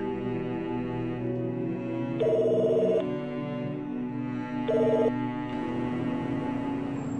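Telephone ringing indoors, two separate electronic ring bursts about two seconds apart over a steady droning background, with no voices.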